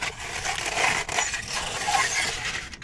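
Aluminum foil being wrapped around motorcycle exhaust pipes during an oil change on a 2023 Honda Rebel 500 gives a close, continuous crinkling and crumpling rustle for a few seconds, with no talking.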